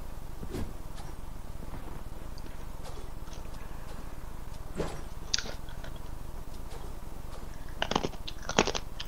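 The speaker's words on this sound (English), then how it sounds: "Sorry if you hear me crunching." Close crunching of food being chewed near a microphone during a gaming session, coming in a few sharp, crackly bursts spaced a few seconds apart over a steady low background hum, with no talking.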